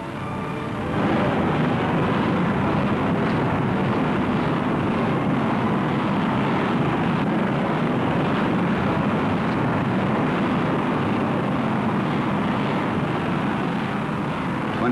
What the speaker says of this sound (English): Seconds and 280 tons of fuel later, the rocket cleared the pad.